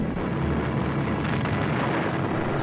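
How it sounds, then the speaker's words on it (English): A continuous low, dense rumble with a steady roar, like explosions or heavy bombardment of WWII London blending into one sustained thunder. "But while explosions continued"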